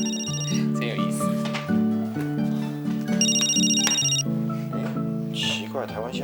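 A telephone rings late at night in a quiet room, its repeating electronic tones sounding in steady bursts over several seconds with soft music underneath.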